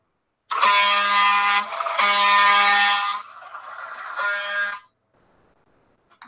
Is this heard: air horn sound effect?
yes